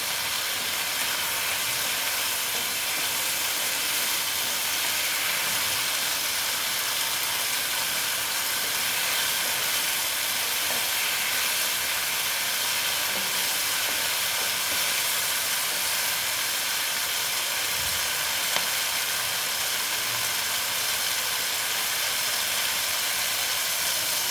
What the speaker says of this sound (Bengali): দেখো টমেটোটা দিয়ে আবার একটু এটাকে ভেজে নেবেন